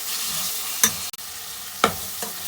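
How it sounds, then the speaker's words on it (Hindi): Whole spices and masala frying for chicken yakhni pulao, a steady close sizzle punctuated by two or three sharp stirring scrapes. "और साथ ही ये तमाम मसाला जात हम लोग इसके अंदर ऐड कर देंगे और इसको 5-7 मिनट के लिए भूनेंगे"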